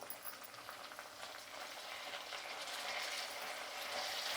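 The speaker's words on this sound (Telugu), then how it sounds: "వంకాయలు కొంచెం కలర్ వచ్చేదాకా మగ్గించుకోవాలి." Brinjals fry in a pan with onions and curry leaves, a soft even sizzle and hiss that swells slightly, quiet and continuous with no voices.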